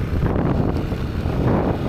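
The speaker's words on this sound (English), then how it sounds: "That was so much wind." Constant low, buffeting rumble of strong wind battering the microphone on a mountain near Da Nang, Vietnam, steady and loud throughout with no voices.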